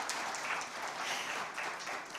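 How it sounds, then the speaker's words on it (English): An audience at an evening electronics and semiconductor event claps for the Minister of Railways, with soft, fairly distant applause that stays steady and muffled for the whole stretch. "A big round of applause, please"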